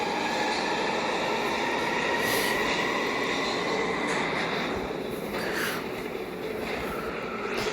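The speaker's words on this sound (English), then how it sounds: "So this is the train that we use." Steady rumble of an automated, driverless subway train running in South Korea, heard from inside the car with continuous rolling wheel noise and faint squeals, fairly loud and unbroken.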